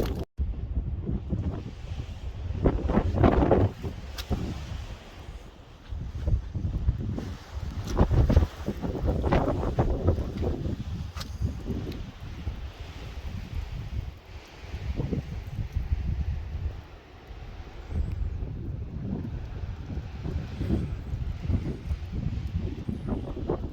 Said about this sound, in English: Wind is picking up and it's starting to snow